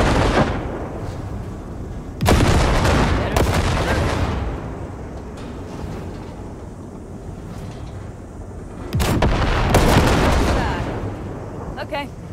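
Ship weapons blasting wrecks from the Basilisk, a cargo ship in Cyberpunk 2077, in two loud bursts of booming gunfire over a steady rumbling engine drone, with quieter shots between.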